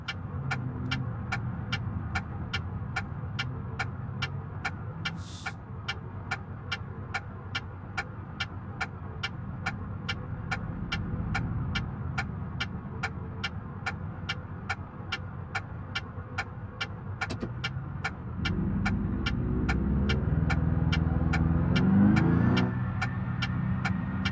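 A car's engine in the video game BeamNG, pulling off from rest with a steady low throbbing hum under a regular ticking pulse, then swelling louder toward the end as it gets going.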